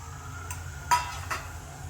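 Eggplant, potato and other vegetables go into a cooking pot for a Bhogi mixed-vegetable dish, heard as a few sharp metallic clinks and clatters of utensil against pot, spaced apart over a quiet background.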